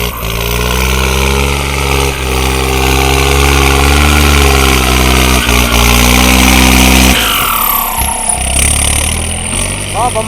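A turbocharged Yanmar EF39 tractor engine runs loud and close with a steady mechanical drone, then the revs drop and a rising airy whoosh from the turbo follows, with someone talking over it.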